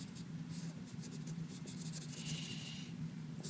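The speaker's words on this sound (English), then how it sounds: "So shade in your 2 rectangle bases" A pencil shades rectangles on paper, a close, quiet, continuous scratchy rubbing of repeated strokes with no talk.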